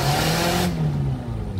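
A Nissan Altima with a clogged catalytic converter revs briefly, its engine tone rising and then dropping as the throttle is released, loud and close.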